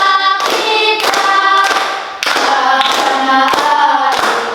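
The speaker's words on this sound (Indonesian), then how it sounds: "Sambil tepuk tangan" Hands clap in a steady beat, roughly one sharp clap every half second, along with a sung patriotic song whose voices and melody run loudly under the claps.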